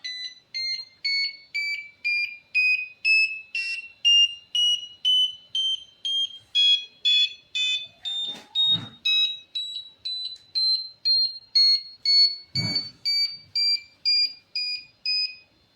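A loud electronic buzzer driven by an Arduino beeps in a steady pulsing pattern, about two pulses per second, its pitch gradually climbing in a frequency sweep over the whole stretch, with a couple of brief thuds.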